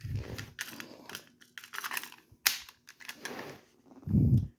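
A Ruger LCP Max .380 pocket pistol being cleared, a run of crisp mechanical clicks and clacks of the slide and action close up, ending in a duller thump.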